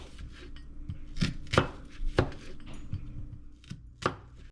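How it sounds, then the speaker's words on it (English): Knife chopping an onion on a cutting board, a series of sharp, irregular chops and thuds spaced unevenly over a few seconds, close and fairly clear with faint background hum. "First thing we're going to do is chop up that onion."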